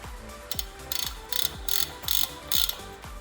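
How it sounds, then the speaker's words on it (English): Bicycle cassette lock ring being hand-tightened during an 11-speed Shimano Ultegra R8000 conversion, giving a rapid series of crisp metallic ratcheting clicks in about six quick bursts, close and fairly quiet with no voices. "the lock ring, which we will hand tighten first to prevent cross-threading"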